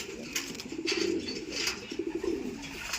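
A hen racing pigeon coos in low, throaty bursts, repeated several times close by at moderate volume with no talking.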